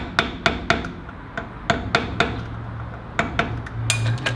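Metal-on-metal taps from a hammer striking a screwdriver on a nut tab during a Land Cruiser 80 front brake job, sharp clinks in uneven groups, close and fairly loud with quiet gaps between blows.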